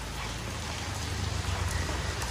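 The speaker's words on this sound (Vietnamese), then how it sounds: "còn bây giờ thì mưa suốt buổi luôn" Steady rain falling through an afternoon in narrow alleys near a graveyard, a dense even hiss of drops on surfaces, close and continuous for the whole stretch with no voices.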